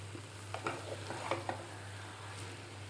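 Green chillies and curry leaves fry in tempering oil for an Andhra-style raw banana dish, a faint steady sizzle with a few soft stirring scrapes, close and quiet over a low hum.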